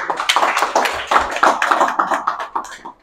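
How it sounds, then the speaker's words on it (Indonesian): An audience claps to welcome a speaker at a seminar on feminist theology, with uneven, fairly close handclaps in a short burst that thins out toward the end. "Kita berikan tepuk tangan."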